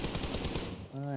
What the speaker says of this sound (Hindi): हां M4 चला रहा वो